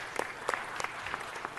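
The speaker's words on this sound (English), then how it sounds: "Just give him a round of applause." Scattered applause from the audience at a city council meeting, a few claps at a time rather than a full ovation, heard faintly and briefly with no talk.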